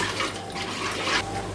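Water runs steadily into an Instant Pot of vegetable soup with tomato paste, a continuous close splashing pour that lasts the whole short moment without a break.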